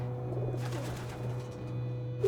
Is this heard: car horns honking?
no